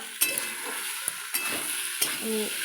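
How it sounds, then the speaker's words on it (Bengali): Masala for a pointed gourd curry fries and is stirred in a pan, a quiet close sizzle punctuated by a few sharp utensil scrapes and taps against the pan, with no voices. "মশলাটা কষে নিই এই তরকারিটা একটু কষি"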